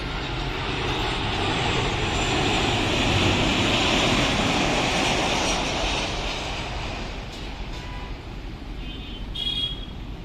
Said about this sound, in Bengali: এগিয়ে আসছে সেন্ট্রাল এয়ারলাইন্সের এই চমৎকার বিমানটি